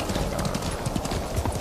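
Horse hooves clip-clop in a video game, a steady quick run of soft hoof knocks close up, with faint background game ambience.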